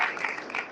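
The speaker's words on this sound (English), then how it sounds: "Let's give a round of applause." A short burst of audience applause at a Kwanzaa celebration, a dense patter of clapping heard briefly and fairly close.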